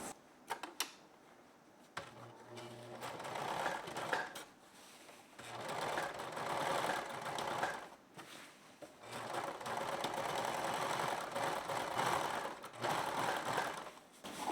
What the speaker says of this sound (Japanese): 左を縫っていきます。